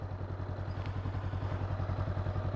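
A motorcycle engine idles steadily with the clutch fully out during a clutch control exercise, a close, even low putter with a light mechanical clatter running through the whole stretch.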